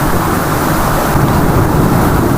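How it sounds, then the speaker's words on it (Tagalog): Big sea waves roll and crash in a loud, continuous roar of surf with no break, close by and dense. "Kita nyo naman mga idol, medyo malalaki yung alon."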